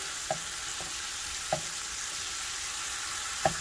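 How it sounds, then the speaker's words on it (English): Pork frying in a pan gives a steady broadband sizzle, with a few sharp clicks of a utensil stirring at irregular moments; no talking. "You see my pork is getting cooked."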